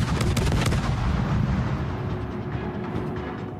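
Warship guns firing in World of Warships, a loud close cluster of booming shots at the start that fades into a rumbling tail.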